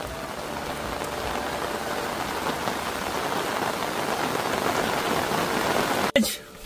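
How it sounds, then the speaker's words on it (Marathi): Steady, dense rain hisses continuously, a heavy downpour drumming on a nearby surface, heard from inside a parked car beside a football ground, with a brief clatter and muffled shift near the end. "आणि पाऊस पण आता जोरदार आलेला आहे"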